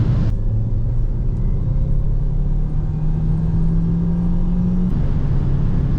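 Renault Megane 4 with a modified 1.3 TCe engine accelerating, a loud steady engine rumble whose pitch climbs slowly over several seconds, heard from inside or close by with no talking.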